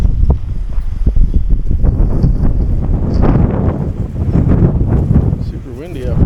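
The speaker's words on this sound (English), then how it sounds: "Super windy up." Strong wind blows across Barker Ranch, an open desert ranch site, roaring and buffeting the microphone in loud, gusty bursts that run through the whole stretch.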